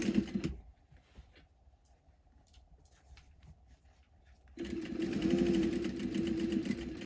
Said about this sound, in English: I'm just going to sew this on my sewing machine as close to the edge as possible